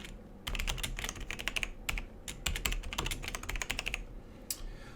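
A new password is typed on a computer keyboard in quick, uneven bursts of light clicking keystrokes with brief pauses between them, close and fairly quiet, with no voices.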